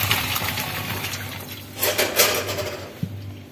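Boiled water from cooking veg Hakka noodles is poured off through a strainer, giving an uneven splashing gush with a few light metallic clinks of a pot and a brief low hum.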